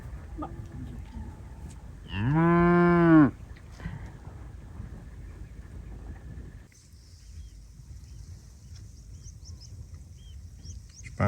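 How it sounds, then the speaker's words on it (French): Two curious Highland cows in Scotland, with one long, loud moo close by, then wind and a high whirring drone hum in the background. "Ces deux vaches Island, très curieuses, nous ont charmés et bien divertis."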